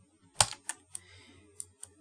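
Keys click on a computer keyboard while a cut is made in Lightworks editing software, with one sharp loud press followed by several lighter, quieter taps spaced irregularly over two seconds in a quiet room.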